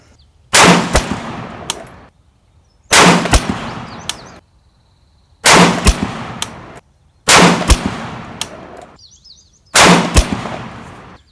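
A Rock River Arms 20-inch varmint rifle fires a five-shot group at a 100-yard range. Five loud, sharp cracks come at roughly two-second intervals, each followed by a short ringing decay.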